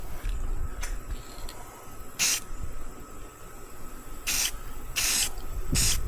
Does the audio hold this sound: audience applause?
no